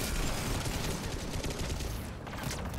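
A sentry turret in the Mass Effect 3 multiplayer video game fires in a dense, rapid burst of gunfire, a continuous crackling volley that stays loud for nearly three seconds with no voices.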